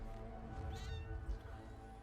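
A cat meows once in the Dota 2 video game, a short mid-pitched call sitting under a steady low rumble of game audio and background sound.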